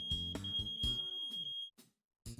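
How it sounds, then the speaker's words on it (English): Interconnected smoke alarms sound in a home, a sharp sustained high-pitched beep ringing over other tonal sounds, then cutting out before a brief restart. "Interconnected alarms. If one's triggered, all the others go off too."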